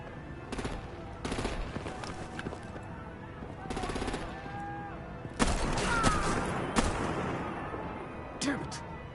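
Artillery and machine-gun fire in the Telltale Batman: The Enemy Within game, Episode 2: several sharp bursts and a heavier rolling barrage mixed with raised voices and a loud impact toward the end.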